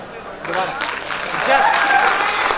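Applause from an audience at a poetry recitation in India swells up over about two seconds, growing denser and louder toward the end, with a voice speaking over the clapping.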